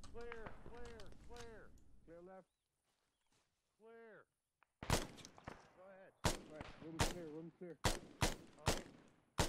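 Arma 3 gunfire in a street shootout with a cartel, where sharp, loud rifle shots ring out in an uneven string of single cracks and short bursts after an earlier stretch of voices talking over the radio.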